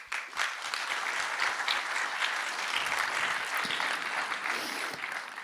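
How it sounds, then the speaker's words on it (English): Conference audience breaks into sustained applause, a dense wash of many hands clapping at moderate distance, steady for several seconds before tapering slightly at the end. "So big round of applause for them."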